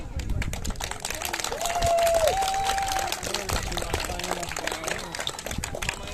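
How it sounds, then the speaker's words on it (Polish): Applause and cheering from an outdoor crowd at a countryside running race in Ulucz, clapping for the director, steady and moderately loud under a murmur of voices and a brief tonal whistle. "Wielkie, wielkie brawa."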